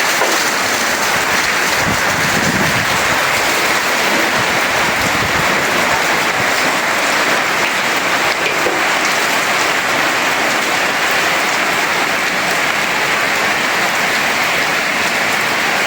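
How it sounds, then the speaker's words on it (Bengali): Heavy rain pours down beside a pond, water splashing into a drum as it fills, a dense, loud and unbroken hiss of falling water lasting the whole time with no voices. "দেখেন পানি কীভাবে পড়তেছে, ড্রাম ভরে পড়তেছে।"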